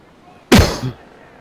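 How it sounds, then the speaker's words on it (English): A single loud, close in-game grenade blast bursts out sharply and decays over about half a second. "Grenades."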